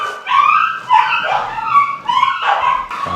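A dog barks and whines in rapid, excited bursts close by, high-pitched yips running almost continuously with short breaks, loud and alone.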